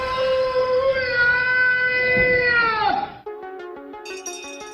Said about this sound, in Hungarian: Ez a macskám.